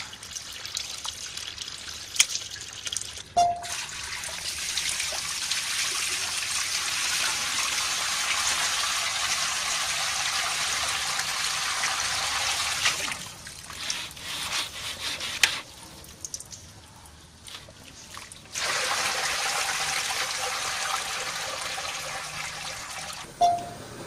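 Water poured and sloshed over material being rinsed in a kitchen, a steady broadband rush in long stretches broken by brief pauses and clunks, close and fairly loud, with no talk.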